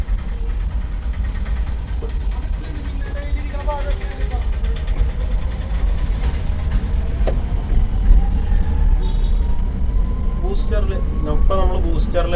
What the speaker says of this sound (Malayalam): അത്യാവശ്യം നല്ല രീതിയിൽ വലിക്കുന്നുണ്ട് വണ്ടി